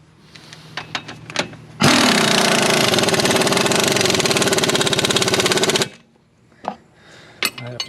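Impact wrench tightening the bottom bolt of a Bilstein B6 shock on a 2016 Winnebago View Sprinter chassis, a loud rapid hammering burst of about four seconds, with clicks and clanks before and after.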